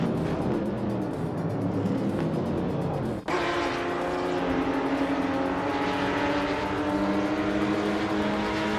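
A 1970 Ford Mustang Boss and other race cars roar in a racing video game, a dense continuous engine drone with a sharp cut near three seconds, then rising engine tones as the cars hold pace, loud and steady with no talk.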